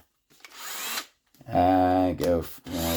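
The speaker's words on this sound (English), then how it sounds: "we're just gonna drill this out" Power drill with a bit chucked in, drilling out a part during repair of an HPI Savage RC truck drivetrain: a close, steady whirring drill run with brief pauses, alongside a short rustle and an earlier burst of noise.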